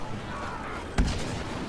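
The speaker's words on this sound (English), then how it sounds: "Blaster cannon." A blaster cannon in Star Wars Battlefront gives one sharp, booming shot in the middle, set against a steady bed of battle noise.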